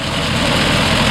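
A small Case JX80 tractor engine running at a steady drone, loud and close, with a constant low rumble and no voices.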